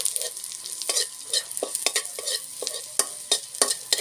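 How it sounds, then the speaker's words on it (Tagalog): Garlic sautéing in a pan in a boarding house kitchen, a steady close sizzle broken by repeated scraping and stirring strokes of a utensil against the pan. "Nagisa ako ng bawang."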